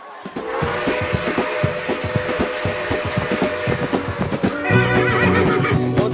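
A racehorse whinnies loudly at a horse race on a Bukittinggi track, its long neigh riding over a steady train of close hoof clip-clops with a dense crowd-like rumble behind, with no talk.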